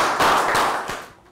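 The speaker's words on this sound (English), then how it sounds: "Round of applause for Tu and Prel." A classroom of young students gives a short round of applause, a few sharp claps blending into a brief flurry that fades out after about a second.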